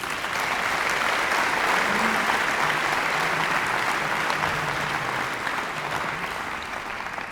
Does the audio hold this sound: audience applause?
yes